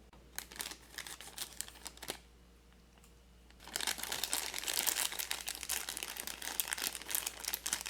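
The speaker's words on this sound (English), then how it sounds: "No tear strip on these. Got to take our scissors to them." Crinkly plastic merchandise packaging with no tear strip being cut with scissors and handled, sharp snips and crackles in bursts, a brief quiet pause, then steady close rustling and crunching.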